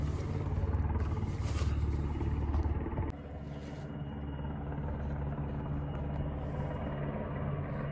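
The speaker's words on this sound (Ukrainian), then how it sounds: "Два дні вертольот літає, не цей спасательний, а якийсь другий. Кружляє отак." A helicopter circles low overhead in Enerhodar, Ukraine, giving a loud, steady droning rumble that shifts in tone partway through and lasts throughout, with no one speaking.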